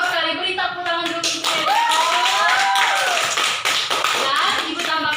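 Classroom children clap together in praise, a dense, sustained patter of many small hands, while an adult voice speaks over it.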